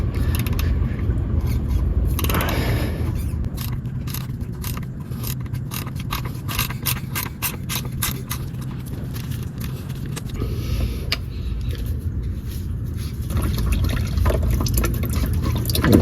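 Someone unscrews the oil filter housing on a 2009–2013 Toyota Corolla while engine oil trickles out, with close scraping and clicking over a continuous liquid gurgle and no talking.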